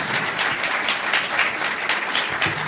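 An audience applauds a magistrate about to speak at a conference on gender equity, a dense, even burst of clapping heard close and steady throughout, with no talk over it.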